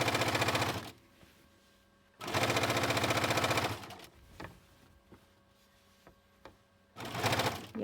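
A sewing machine stitches binding onto a quilt in three loud, rapid bursts of fast mechanical whirring, separated by quiet pauses with small clicks and handling noises.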